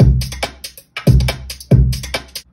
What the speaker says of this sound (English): And most importantly, we need some bouncy drums.